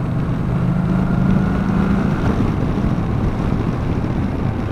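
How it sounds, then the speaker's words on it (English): A 2018 Kawasaki Vaquero motorcycle with its stock exhaust rumbles at a steady, fairly loud idle-to-cruise drone with no voices over it. "Stock exhaust doesn't sound bad though."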